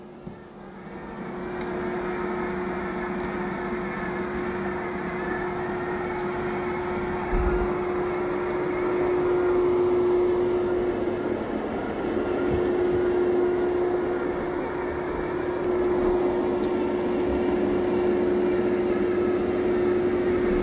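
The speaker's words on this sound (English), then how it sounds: "It's actually doing a pretty good job of vacuuming." A Dyson Spot+Scrub AI robot vacuum cleaner hums with a steady motor whine as it cleans the floor, with a few faint bumps and clicks over about twenty seconds.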